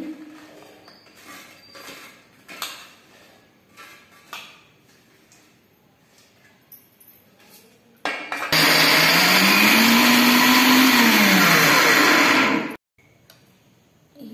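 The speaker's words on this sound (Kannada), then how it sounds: "ಈಗ ಒಂದು ಮಿಕ್ಸಿ ಜಾರ್ ತಗೊತಾ ಇದ್ದೀನಿ." A kitchen mixer grinder runs loud and steady for about four seconds as it grinds cooked avarekalu (field beans) in a jar, after quieter clinks and handling noises, then stops abruptly.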